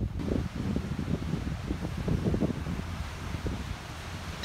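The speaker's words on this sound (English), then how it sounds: "It's actually really windy today" Steady wind gusting across the microphone, a low rumbling buffet that rises and falls continuously with no voices.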